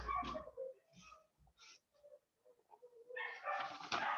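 Small dogs give a few short barks and whimpers at a distance, with quiet gaps between them, then a louder flurry of yapping at the end.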